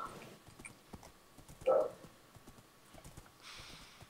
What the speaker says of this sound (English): I know I'm still riding along the corridor, but I think it's clear that you've got a faster horse.